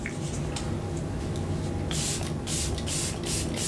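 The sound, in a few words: makeup setting spray being sprayed on face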